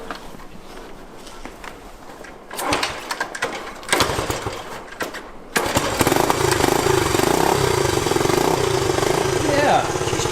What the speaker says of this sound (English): She starts and runs, and high-low works.